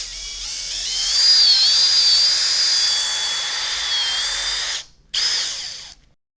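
Power mixer whirring steadily as it blends two-part epoxy tile grout paste with hardener for a kitchen splashback, a loud, continuous high-pitched drone that briefly cuts out near the end, then restarts for a moment and stops.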